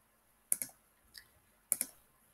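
Computer mouse clicking, in two quick double clicks with a faint single click between them, crisp and close against a quiet background.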